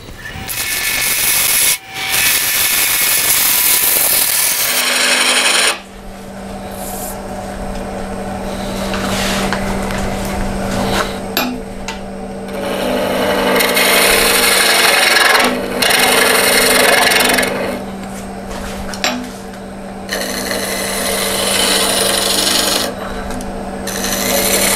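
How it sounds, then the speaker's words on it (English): A scraper shears along a wooden natural-edge hollow form spinning on a lathe, giving steady rasping, hissing scrapes in long passes with short breaks, close and fairly loud over the machine's hum. "I do quite a bit of shear scraping to refine my form."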